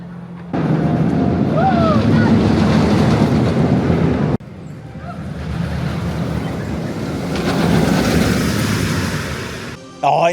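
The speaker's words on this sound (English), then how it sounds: "Oh, it never gets old riding Expedition GeForce, one of the best coasters in Europe in my opinion." Riding the Expedition GeForce roller coaster at Plopsaland Deutschland, a loud, continuous roar of rushing wind and rattling track buffets the microphone, broken by a brief dropout and then swelling again as the ride speeds on.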